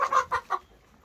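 Laying hens in a henhouse give a short burst of three or four close, clear clucks, then fall quiet.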